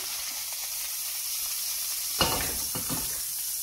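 Butter sizzles in a hot pan for pancakes, a steady frying hiss that suddenly crackles louder as batter or butter hits the surface, then settles into bubbling spatter.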